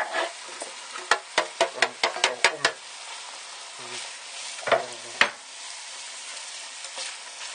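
Carrots and onions sizzle in a pot as a utensil scrapes and clacks through them, a quick run of sharp knocks early, then a steady hiss with a few more stirs.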